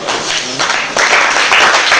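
Applause from an audience at a certificate ceremony of the MBA Maluta foundation, greeting its president; dense, close clapping that swells partway through and keeps going steadily.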